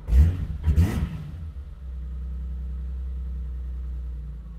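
A BMW E30 engine on a MegaSquirt MS3Pro tune settles into a steady, low rumbling idle after a couple of brief revs, the even drone continuing close and alone.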